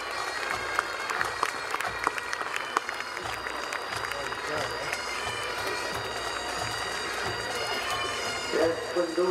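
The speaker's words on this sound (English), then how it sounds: "Big round of applause for the band." Outdoor crowd applause for a pipe band at a Highland gathering in Braemar, steady dense clapping from many hands at moderate distance, with cheering voices and drum sounds mixed in.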